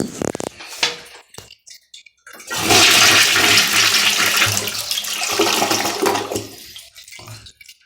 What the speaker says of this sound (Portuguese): E descarga parcial aqui.